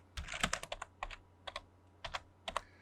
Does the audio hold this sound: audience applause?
no